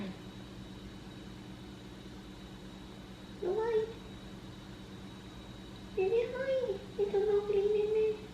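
Pet cat meowing nearby in a quiet room, one short meow followed by a longer drawn-out run of meows, over a faint steady background hum.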